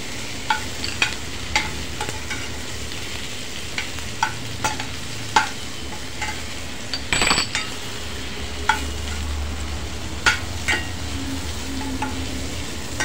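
Dried fenugreek leaves (kasuri methi) frying in a pan for a cashew masala, giving a steady close sizzle broken by repeated scrapes and light clinks of stirring, with no voices.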